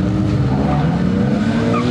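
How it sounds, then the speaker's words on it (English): A 1980s Toyota Corolla Group 1 rally car from the Toyota Team Europe era runs on a live rally stage at a retro motorsport show, its engine roaring loud and continuous as it passes nearby. "Charlie Gabb in the Corolla, a Group 1 X-Works rally car"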